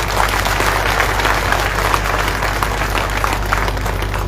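Audience clapping at an outdoor satyagraha commemoration ceremony in Auwa, a loud, continuous burst of dense applause from a large crowd that holds steady throughout.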